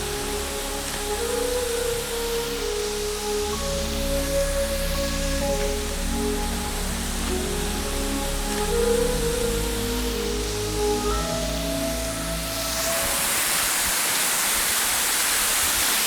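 Water pours at Bisibis Falls as a steady broadband rush, fairly soft and continuous, with faint tonal hum in the background and a brighter surge of splashing noise near the end.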